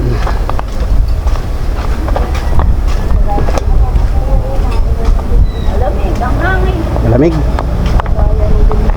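Strong wind buffets the microphone outdoors in a rural area before a storm, a steady rushing roar under a nearby voice.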